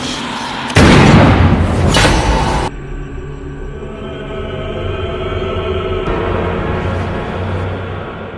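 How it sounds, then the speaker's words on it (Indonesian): Loud gunshot blasts from a Conjuring 2 film scene, a pair of heavy booming reports in quick succession followed by a lingering low rumble with no talk. "Tanpa ragu, Ronald menembak kedua orang tuanya hingga tewas bersimbah darah."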